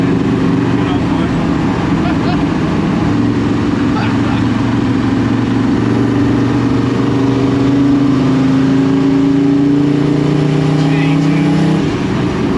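A one-off Commer pickup with a 400 bhp diesel engine accelerates hard with a loud, rising engine drone that builds through the gears while people talk over it inside the vehicle.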